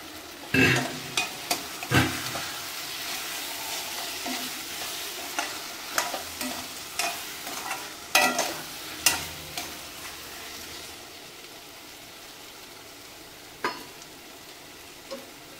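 Mushroom pasta with crushed kasuri methi is sautéed in a pan, a soft steady sizzle broken by scattered clacks and scrapes of a spoon stirring, close and fairly quiet.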